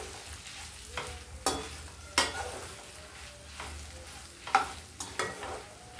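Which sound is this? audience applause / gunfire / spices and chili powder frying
spices and chili powder frying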